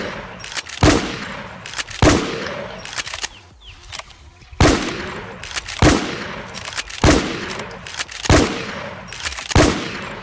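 Rapid bursts of automatic gunfire from the zombie-shooting survival game Infestation: Survivor Stories, set in Campos City, repeat in loud regular volleys about once a second with short gaps and no talk.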